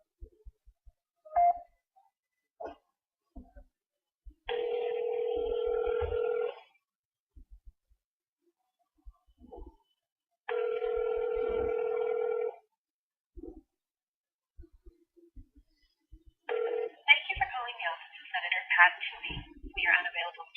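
A telephone call goes out: short dialing beeps, then two long ringback tones separated by quiet, and a third starting before a recorded voice answers, all faint and distant.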